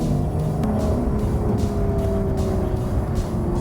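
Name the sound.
Lotus Evora 400 automatic accelerating and shifting gears in manual mode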